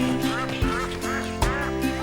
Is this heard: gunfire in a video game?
no